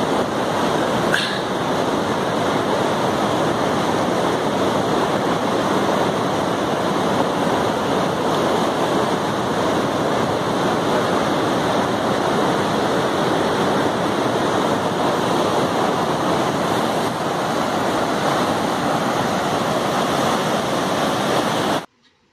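Glacial meltwater stream near Gomukh at Gangotri, a steady loud broadband rush of turbulent water close by, continuous and unbroken with a faint wind-like hiss throughout.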